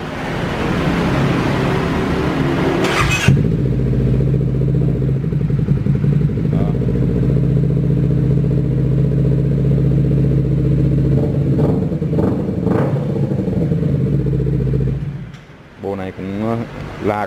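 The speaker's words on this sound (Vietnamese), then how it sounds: "mình sẽ thử test cái bô này" A used CBR 250 motorcycle with 22,000 km and an aftermarket Levin-style exhaust runs steadily and loudly up close for about twelve seconds, with a deep throbbing drone and mild rises in revs. The engine cuts off abruptly and someone speaks briefly at the end.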